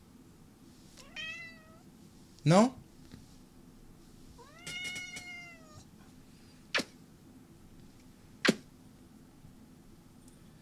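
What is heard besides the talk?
cat meowing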